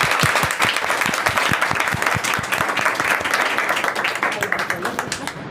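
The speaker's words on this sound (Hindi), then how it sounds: "जोरदार क्लैपिंग होनी चाहिए" An audience at a Yoga Day event of the Jan Shikshan Sansthan in Peeragarhi, West Delhi, breaks into loud, dense applause, many hands clapping close and steadily, tapering slightly toward the end.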